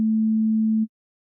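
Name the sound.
sine wave from an analog oscillator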